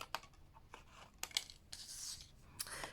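Paper being cut in half with scissors while making an angled gift box: several short crisp snips and a longer slicing rasp, close and fairly quiet, with no talking.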